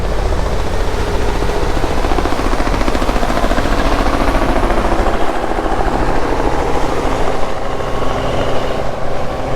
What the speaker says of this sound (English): starting to throttle up a bit